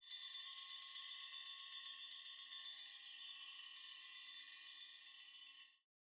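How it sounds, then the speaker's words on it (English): A mallet handle wedged between two rods and shaken very fast, giving a continuous high, buzzing rattle that stays steady and fairly faint before cutting off. "I took the back end of a mallet and stuck it between 2 rods and then just shook them really, really fast"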